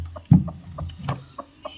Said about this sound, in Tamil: இதுதான் நம்மளோட தாய்க்கோழி